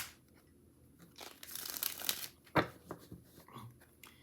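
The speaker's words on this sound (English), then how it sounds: "Let's hit it with a shuffle here." A mini Rider Waite Smith tarot deck is shuffled by hand, giving soft crinkly card riffles and a sharp snap, quiet and close.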